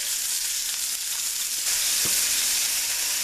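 Eggs seasoned with salt, black pepper and onion powder sizzle loudly in a pan while being stirred, a constant close frying hiss with a soft scrape or two.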